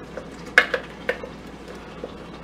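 Ground masala paste is stirred as it fries in hot oil in a pan, with a quiet steady sizzle and a few sharp clinks of the spoon against the pan, close by and without voices.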